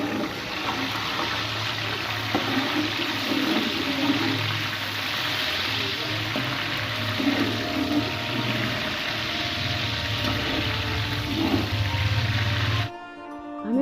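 Dry coconut, almonds, raisins and green cardamom fry in hot oil for mutanjan sweet rice, giving a steady, close, bubbling sizzle that runs continuously before cutting off near the end.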